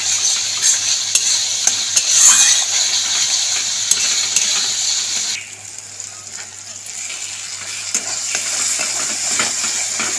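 Spice paste sizzles in oil in a pan while parshe fish curry in Bengali tel jhal style is cooked, a steady close-up frying hiss with occasional stirring scrapes; it drops somewhat quieter partway through.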